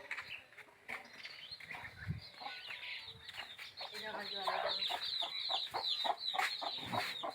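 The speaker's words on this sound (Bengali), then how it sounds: "মুরগিগুলো কোথায় যাচ্ছে দেখি আমরাও" Several chickens cluck nearby in short, busy bursts, growing denser toward the end, with people talking faintly at moments.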